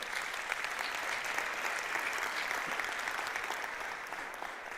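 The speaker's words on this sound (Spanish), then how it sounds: "Gloria, dáselo fuerte, un fuerte aplauso al Señor." A church congregation applauds during a Spanish-language sermon, sustained even clapping from a large room of people at moderate volume, continuous with no voices on top.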